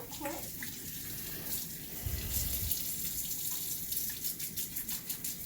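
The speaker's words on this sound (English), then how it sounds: "Let me rinse my hands off real quick." Running kitchen tap with hands being rinsed beneath it, a steady broadband rush of water with splashy fluctuations near the end, close by and alone without talk.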